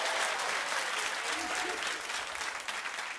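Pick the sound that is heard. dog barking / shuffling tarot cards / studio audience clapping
studio audience clapping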